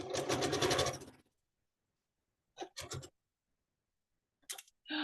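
A sewing machine stitches down the middle of a scrappy nested bear paw quilt block, running in one steady buzzing burst and then in a few short, quick bursts with quiet pauses between them.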